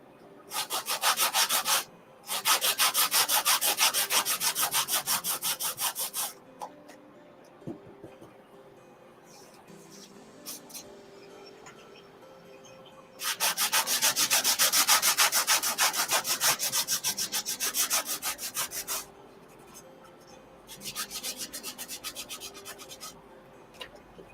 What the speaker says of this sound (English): I'm just sanding the edges